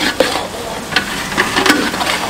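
Chicken frying in a restaurant kitchen in Paravoor, Kollam, a loud close sizzle with a few sharp stirring scrapes and clinks, no talking.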